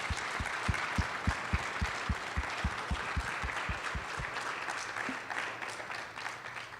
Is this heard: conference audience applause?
yes